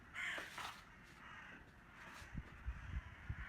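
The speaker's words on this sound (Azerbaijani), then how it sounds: "Qarğalar başladı qarğalamağa" A crow gives a couple of harsh caws at the start, then more distant, fainter caws follow, with low thumps and quiet background noise.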